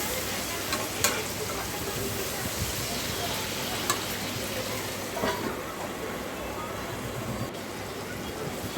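A pan tempering for a salted fish curry gravy sizzles steadily and fairly close, with a few sharp clinks or pops breaking through the dense, continuous frying hiss.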